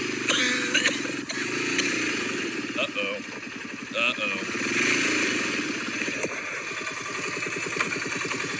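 A four-wheeler ATV engine runs close by with a rough, sputtering drone as it is put into high gear. A person talks over the engine noise.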